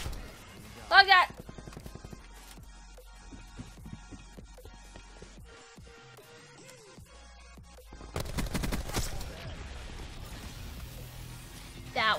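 Bursts of VAPR-XKG rifle fire in Black Ops 4 zombies mode, a loud rapid volley early on, then scattered shots and a denser stretch of fire near the end, with someone talking throughout.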